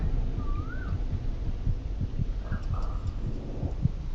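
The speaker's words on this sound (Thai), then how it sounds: "ตึกตึกตึกตึกเสียงหัวใจใช่ไหม" A steady, looping heartbeat in the horror game Among the Sleep, with soft low thumps pulsing at a regular quick pace beneath a dull, humming ambience. A faint tone briefly wavers over it.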